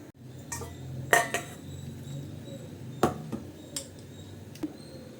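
Ground capsicum chutney scraped and spooned from a mixer jar into a bowl, with a few sharp metallic clinks and taps standing out over a steady low background hum.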